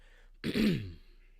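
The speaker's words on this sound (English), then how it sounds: "I've been clearing my throat a lot" A single throat clearing, close and fairly loud, a short rough burst lasting about half a second, then quiet.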